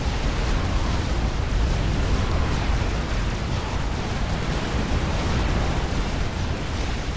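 Strategic bomber bombs exploding across a base in the strategy game Supreme Commander: Forged Alliance, a dense, continuous roar of overlapping blasts and rumbling that never lets up.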